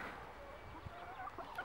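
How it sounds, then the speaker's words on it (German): Chickens cluck softly in short, scattered calls, faint and somewhat distant. "So, das sind jetzt noch alle Hühner,"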